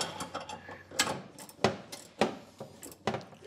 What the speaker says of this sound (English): so you may have to use a ratcheting wrench here